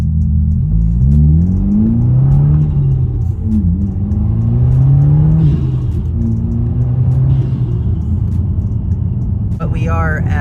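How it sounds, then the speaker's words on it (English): A 2022 Subaru WRX cruising on the highway at about 67 mph, its steady engine drone and road rumble running throughout beneath a voice. "we are at cruising highway speed, about 67 miles per hour, just a nice slow and chill highway speed"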